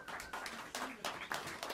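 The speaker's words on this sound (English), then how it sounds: "Shout a round of applause for him." A small jazz club audience claps for the drummer in a short, faint burst of scattered applause, with a voice running over it.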